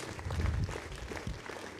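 Applause from an audience welcoming two performers, Ruby and Emerald, onto a stage, a dense steady patter of clapping heard from some distance, fairly quiet.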